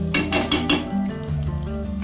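Green pea paste hits hot oil with fennel and cumin in a wok, bringing a few sharp scraping and clinking strokes and then a steady close sizzle.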